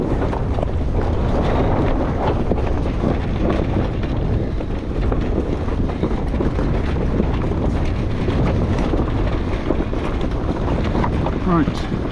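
Strong wind roars steadily across a sailboat underway upwind, a loud continuous buffeting rush with water and hull noise beneath, unbroken throughout.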